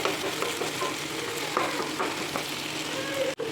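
Tomato, onion and green chili cook in hot oil in a pan for egg curry, giving a dense, continuous sizzle with soft stirring scrapes, close and steady.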